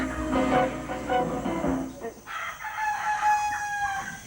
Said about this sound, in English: Roosters who roam around freely wake up the people at dawn.